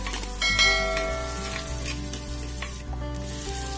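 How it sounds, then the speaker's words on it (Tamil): Onions, green chillies and crushed garlic sautéing in oil for a Tamil fish curry, a steady close sizzle with occasional stirring scrapes and light utensil taps, no voices. "வெங்காயத்து கூட 3 பச்சை மிளகாயையும் சேர்த்து நல்லா வதக்கிக்கலாம்."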